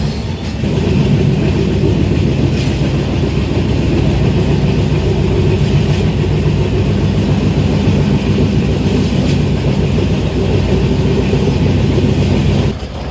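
A passenger train rolling slowly through Itarsi in central India, heard from on board: a loud, continuous rumble of wheels and carriages with faint rhythmic clatter, steady throughout and without voices.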